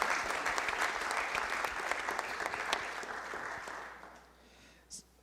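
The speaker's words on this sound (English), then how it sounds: "Let's go to give Nancy a round of applause." A council meeting audience applauds with steady, dense clapping for about four seconds, then the applause fades out into near silence.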